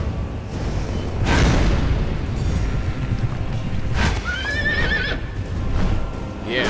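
A unicorn mount in Riders of Icarus gallops close with rapid hoofbeats under rushing wind, and a shrill whinny rises midway through, with a brief voice faint in the mix.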